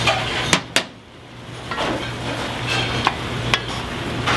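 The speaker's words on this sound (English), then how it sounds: "Give that a stir, kind of get everything incorporated there." Venison hunter's stew is stirred in a Le Creuset pot, with a couple of sharp utensil knocks against the pot, then a low simmering sizzle and scraping, plus a few more clicks.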